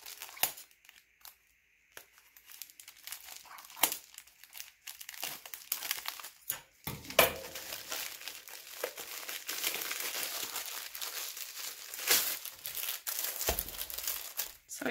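Bubble wrap and plastic wrap packaging around a diamond painting kit being unwrapped, with close, irregular crinkling and crumpling bursts separated by brief quiet gaps.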